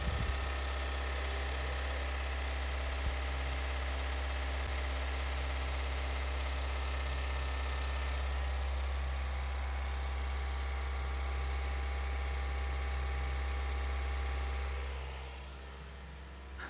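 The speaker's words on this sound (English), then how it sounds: "Now we'll decrease RPM and let the engine stabilize." A Mazda 2.2 Skyactiv-D diesel engine idles with a steady low hum and drone, close and even, before the level drops slightly near the end as revs settle.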